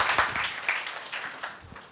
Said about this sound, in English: Can we just give him applause?